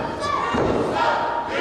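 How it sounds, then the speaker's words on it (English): A wrestler drops a fist onto an opponent during a Larry Sweeney pro wrestling match, landing as a single dull thud over the constant roar of the arena crowd. "Drops a fist."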